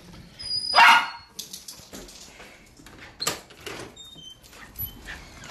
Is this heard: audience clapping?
no